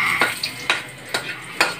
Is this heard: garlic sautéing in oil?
yes